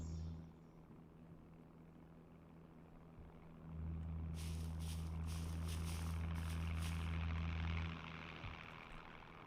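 A video game aircraft circles overhead, its low droning rumble holding steady and then swelling louder for a few seconds as it passes close before easing back.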